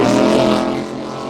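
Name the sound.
42-foot Fountain offshore powerboat accelerating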